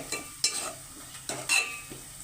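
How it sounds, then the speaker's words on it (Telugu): Halved green chillies fry and sizzle in hot oil in a pan while preparing mutton masala curry, with a few stirring scrapes and utensil clinks over a steady close crackle. "అవి వేసుకొని ఒక నిమిషం పాటు వాటిని కూడా ఫ్రై చేసుకోవాలి"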